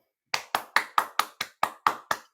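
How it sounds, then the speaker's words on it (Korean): Nine evenly spaced, crisp claps ring out one after another in a talk show welcoming a guest. They are close and isolated against silence, more like a single person clapping than a crowd. "여러분 박수 부탁드립니다."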